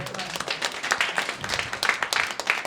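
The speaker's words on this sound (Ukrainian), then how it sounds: "Оплески Никиті, будь ласка" Scattered applause from a small stand-up comedy audience, a few seconds of uneven clapping.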